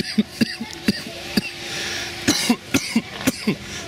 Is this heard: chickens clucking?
no